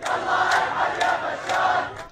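Protesters in Suwayda, Syria chant in unison, a large crowd shouting rhythmic slogans with regular beats about every half second, loud and close.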